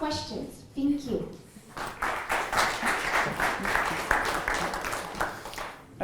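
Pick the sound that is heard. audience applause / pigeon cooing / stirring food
audience applause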